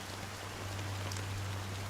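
Steady fine drizzle of rain in Honkai: Star Rail, a continuous soft patter with a low steady hum beneath it, no voices.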